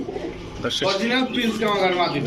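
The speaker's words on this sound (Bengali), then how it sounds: "দেখেন লাল টকটকা প্রিন্স কামারকার মাদি" A red female Prince Kamargar pigeon coos nearby in soft, repeated throaty rolls, close and fairly loud, with a voice also present around it.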